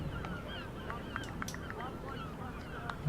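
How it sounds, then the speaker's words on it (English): Birds calling and chirping at the far end of a cricket ground during a county match between Kent and Leicestershire, with scattered short calls over steady outdoor background noise. "The birds are circling at the far end. Can hear them chirping away on our effects mic."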